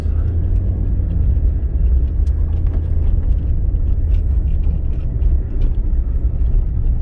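Steady low engine rumble from a two-wheel drive pickup truck driving in Alaska, its four-wheel drive out of order; a constant loud drone with road noise throughout and no talking.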